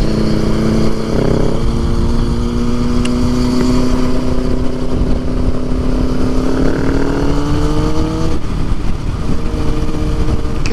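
Motorcycle engine droning loud and close while riding fast in fifth gear, with a steady hum and rising, falling pitch as the throttle changes, plus wind noise.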